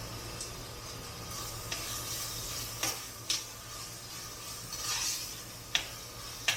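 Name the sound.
ginger garlic paste frying with onions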